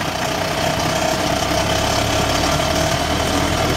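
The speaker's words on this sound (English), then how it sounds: "Two cycle engine's a little rough at first, but then it smooths out pretty nice." The two-cycle engine of an AMF Harley Davidson three-wheel golf cart runs steadily at close range, with a rough, buzzing, knocking idle-like drone and no talk.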